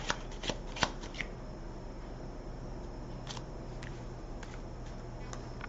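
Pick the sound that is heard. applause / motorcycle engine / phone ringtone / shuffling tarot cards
shuffling tarot cards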